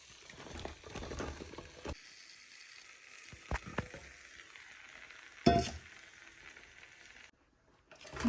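Chopped potato and brinjal sizzle steadily in a hot pan, with scattered clinks and stirring knocks close by, then fall briefly quiet near the end before the frying noise returns.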